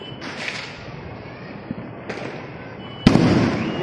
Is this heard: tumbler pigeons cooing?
no